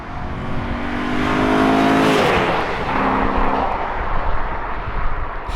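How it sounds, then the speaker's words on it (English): A Porsche 928 S4 V8 accelerates hard in a full pull, its engine note climbing steeply, then briefly dropping at a shift before rising again, loud and close with heavy wind and road roar. "we're gonna do one last pull of the 928"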